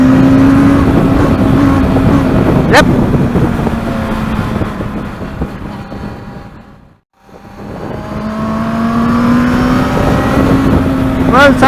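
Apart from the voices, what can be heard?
motorcycle engine revving while accelerating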